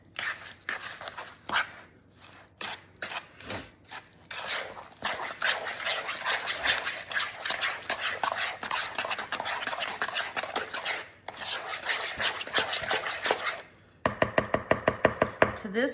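Pumpkin pie filling with sugar is stirred briskly in a bowl, giving repeated scraping and swishing strokes. The strokes are uneven at first, then grow steadier and denser, and end in a quick run of sharp taps. No one talks.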